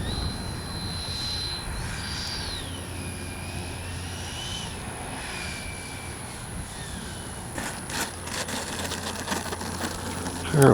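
Kavan Skyfox L-39 radio-controlled jet with an upgraded 80mm electric ducted fan flying overhead, a steady whining fan tone rising and falling in pitch as it passes, with a brief louder burst near the end.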